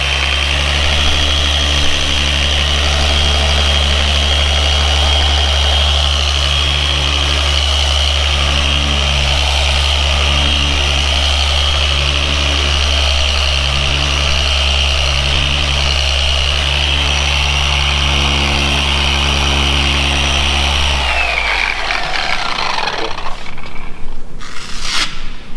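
A gear-driven Flex car paint buffer runs steadily with a loud, close whine and low motor hum, then winds down and stops near the end.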